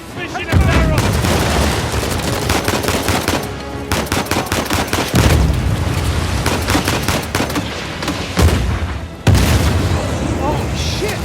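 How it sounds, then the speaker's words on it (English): Grenade launcher explosions and heavy gunfire in the action game Uncharted, loud booms and rattling bursts filling the scene almost continuously, with shouting voices mixed in. "Grenade launcher!"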